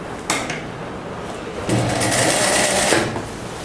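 A sewing machine stitches a folded seam on ao dai fabric, running in fast, even bursts with a short pause between two loud passes.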